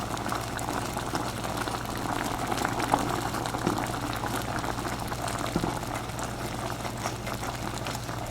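Steady low bubbling and simmering of sauce in a pan, a continuous soft gurgle with occasional small pops, close and unchanging.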